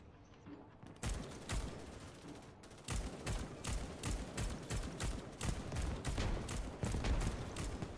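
Rapid repeated gunfire in the Choice Chamber video game, long bursts of sharp shots after a short quiet lead-in, loud and dense.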